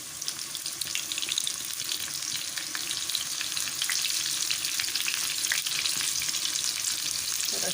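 Steady, loud sizzling of garlic and onion frying in hot oil over medium heat, a continuous crackling hiss with occasional pops, no voices.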